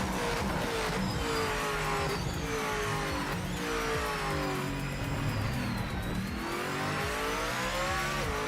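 Race car in Project Motor Racing driven hard, engine roaring continuously with shifting pitch, tires locking up and squealing under braking; loud and steady throughout with no talk.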